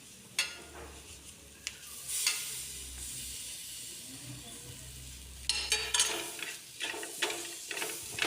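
Small tomatoes go into masala frying in a pan, producing a quiet continuous sizzle broken by stirring scrapes and spoon clatter, near and fairly soft, with louder stirring bursts toward the end.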